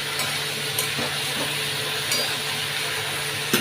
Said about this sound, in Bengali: এটাকে একটু নাড়বো ভালো করে।